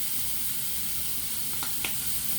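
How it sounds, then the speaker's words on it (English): Vegetables cooking in a pan with bacon give a steady, close broadband sizzle and hiss, with a couple of brief sharper pops near the end and no talking. "you want to cook your vegetables for a few minutes with the bacon"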